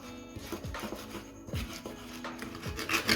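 Kecombrang flower for rujak spice paste is ground by hand in a mortar, giving repeated scraping and rubbing strokes with soft thuds every second or so, close and alone.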